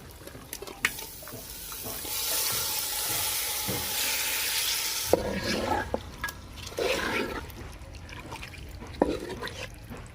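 Village-style desi chicken hits a pot of spiced masala with a little water and sizzles loudly, and a spoon scrapes and clatters as it is stirred. The hiss fades back to a softer simmer with stirring knocks.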